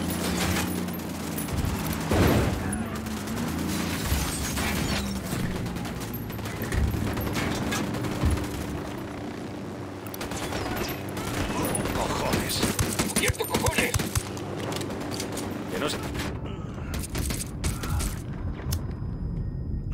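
Near-continuous automatic gunfire in Ghost Recon Wildlands, rapid rattling bursts and clattering mechanical noise under game voices, building in intensity before a brief drop into quiet near the end.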